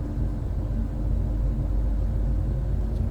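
A Hyundai Veloster N creeps along slowly in first gear, its engine giving a steady low rumble with a faint hum, continuous and moderately loud from inside the car.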